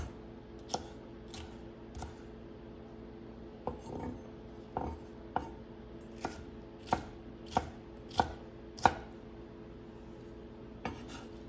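A knife chops peppers on a cutting board for a dinner salad, about a dozen crisp, close thuds, spaced unevenly at first and then falling into a faster, steady rhythm over a quiet kitchen background.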